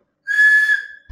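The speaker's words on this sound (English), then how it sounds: "So if somebody can blow their whistle, we can see the frequency." A single shrill whistle blown during a medical instrumentation lecture, one sustained steady tone lasting about half a second and fading out, close and loud, followed by a brief thump.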